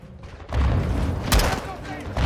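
Grenade blasts and gunfire in the Modern Warfare 2 campaign: a broadband boom opens the clip, then a second sharp blast lands mid-clip among dense, overlapping bursts and rumble.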